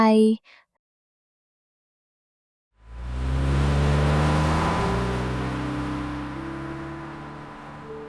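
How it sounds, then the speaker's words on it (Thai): A car engine starts after a brief moment of silence and then runs steadily at a low idle, close by and alone, with its rumble gradually settling. "เดี๋ยวผมไปสตาร์ทรถรอนะ"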